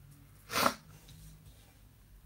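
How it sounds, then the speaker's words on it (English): A single sharp sniff or snort from a person, loud and close, about half a second into a quiet indoor stretch with low background hum. "sorry for the sniffing"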